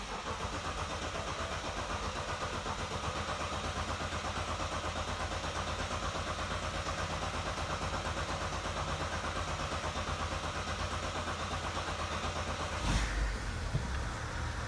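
A BMW E70 with the M57 diesel engine, freshly fitted with a rebuilt high-pressure fuel pump, cranks steadily for a long stretch before catching near the end, heard up close with no talk.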